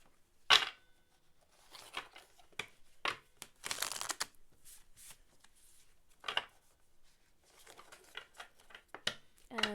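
Tarot cards being shuffled by hand, close and quiet: irregular bursts of riffling, sliding and flicking card sounds with short pauses between them, and no talking.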